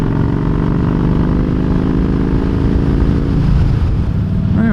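A steady motorcycle engine drones loudly throughout the ride, close up and with wind noise, then near the end the engine note drops and shifts as the throttle is blipped for a downshift from fourth to third.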